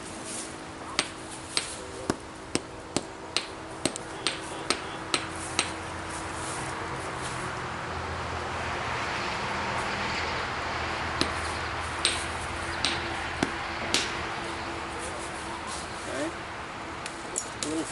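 Obsidian is flint-knapped by hand in a run of sharp, evenly spaced clicks and taps as flakes are struck off, close and crisp over a low steady background.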